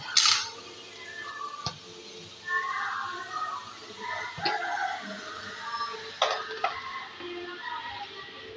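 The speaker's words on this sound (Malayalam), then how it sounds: "നല്ല എല്ലാം കൂടി മിക്സാക്കി കൊടുക്കാം" Chilli powder and grated coconut being stirred into prawn masala in a pan, with a few sharp scrapes and knocks of a spoon over a soft sizzle, close and fairly quiet, no talking.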